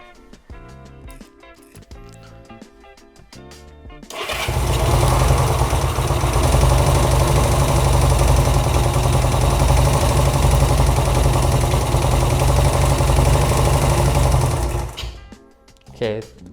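A Honda CB200 motorcycle with an aftermarket carburetor being adjusted sits quiet with a few small clicks, then its engine catches and idles loudly and steadily for about eleven seconds before cutting out.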